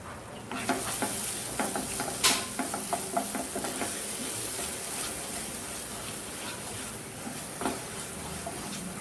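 Masala spices with garam masala and salt fry in oil for misal pav, making a continuous close sizzle and hiss with repeated soft scraping and clicking from stirring.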